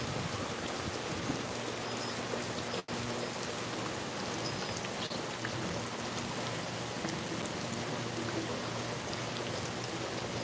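Steady rain falls in a continuous, even hiss on surfaces, with no talk and one brief dropout partway through.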